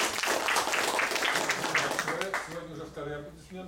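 A lecture audience claps after a scientific presentation, loud and dense at first, then fading as speech takes over toward the end.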